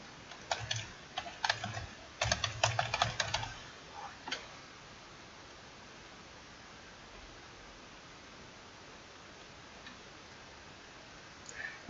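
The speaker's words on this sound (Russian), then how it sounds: "Немножко накидала текста" Keys clack on a computer keyboard as text is typed, quick bursts of close, crisp taps in the first few seconds, then a pause with one last short flurry before near silence.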